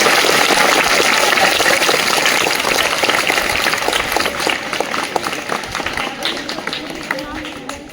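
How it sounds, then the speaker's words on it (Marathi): A school Sanskrit Day audience bursts into loud, sustained clapping that slowly thins and fades over several seconds, with some voices in the crowd. "जोरदार टाळ्या तुमच्या सगळ्यांचं"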